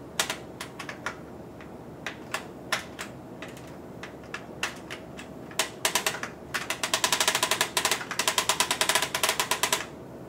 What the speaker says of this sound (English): there's a clicking noise. I'm reeling in the line